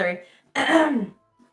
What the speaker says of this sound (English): I worked myself up into a cough fit.